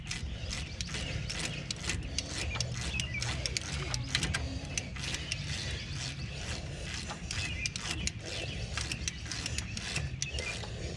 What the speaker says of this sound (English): Then get the other one snug, and you can actually go ahead and tighten this one up